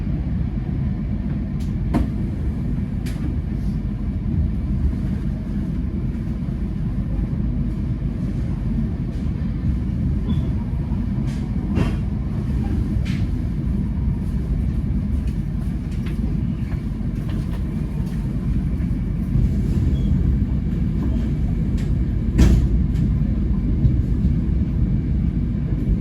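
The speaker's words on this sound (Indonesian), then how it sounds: "Diberangkatkan kembali dari stasiun Pekalongan." A Kaligung passenger train departing Pekalongan station, heard as a steady low rumble of rolling wheels and engine that keeps going throughout, with faint clicks and knocks over the top and no voices.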